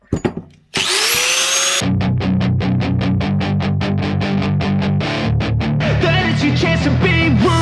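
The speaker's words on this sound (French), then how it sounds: "Donc on va principalement meuler là autour." An angle grinder works on a motorcycle exhaust pipe, with a high whine spin-up followed by a steady, loud grinding roar that pulses in rapid regular bursts as the disc bites the metal, continuing without talk.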